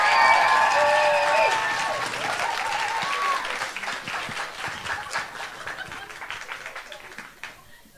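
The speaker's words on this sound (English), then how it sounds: "So please give them a big cheer." Audience applause and cheering for a youth poetry slam group at a Scottish regional heat, loud dense clapping with whoops at the start that gradually thins and fades over several seconds.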